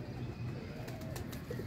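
A pigeon, a rare slate-grey Kalandari-type youngster, coos softly and low, faint against a steady low background hum with no one speaking.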